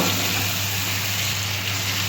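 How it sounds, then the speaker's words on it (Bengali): Masala spices sizzle in a pan for vegetarian ghugni, a steady, close frying hiss with a low hum running underneath and no talking. "মশলাটা আমি একটু ভালো করে কষিয়ে নিচ্ছি।"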